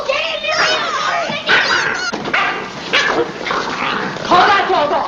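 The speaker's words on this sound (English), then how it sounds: "Call that dog off." A dog barks, yips and growls at a man in a 1938 drama, close and loud with rapid, excited bursts throughout, while people shout over it.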